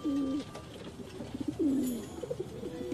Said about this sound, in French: Regardez-moi ces pigeons comme ils sont beaux.